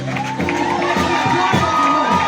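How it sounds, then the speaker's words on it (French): A church congregation lifts joyful shouts and cheers, a loud, dense mix of whoops and raised voices rising and swelling together at close range. "Levons des cris de joie pour Jésus."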